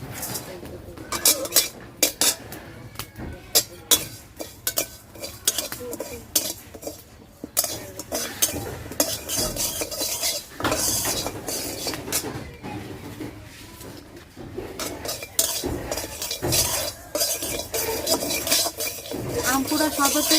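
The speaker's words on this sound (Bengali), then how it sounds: "আর একটু শুকনা খোলায় যে জিরা ভাজা নিমু।" Cumin seeds dry-roasting in an oil-free pan, heard as a dense run of rapid metallic scrapes and clinks from a spatula stirring against the pan, close and busy throughout with no talking.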